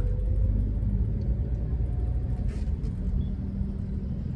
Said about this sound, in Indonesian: masih padat banget dari tadi nih, gak bergerak nih, macet